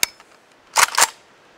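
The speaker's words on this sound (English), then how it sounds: "Just a fun little gun to shoot" FEG AMD-65 rifle fired outdoors, a pair of sharp loud reports in quick succession after a faint click, followed by quiet.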